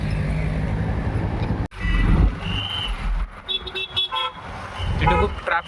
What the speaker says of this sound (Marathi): तिथे खूप ट्रॅफिक झालंय